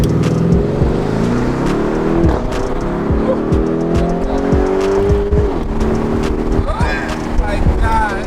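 A 2021 Lamborghini Urus SUV accelerates hard, its engine rising loudly through repeated upshifts with sharp crackles between gears, while excited voices talk over it.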